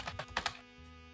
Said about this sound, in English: That typing noise is going to get very annoying very quickly.